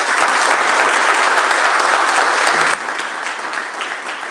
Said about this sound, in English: So give Mark a nice round of applause